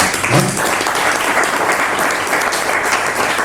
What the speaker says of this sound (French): C'est là que je pense qu'on devrait applaudir quand même ceci